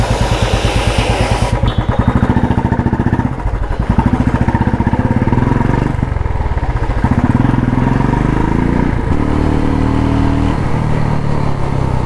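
Royal Enfield Classic 350 motorcycle running on the road, a loud steady single-cylinder engine drone with slight shifts in pitch as it rides, continuous for the whole stretch with no talking.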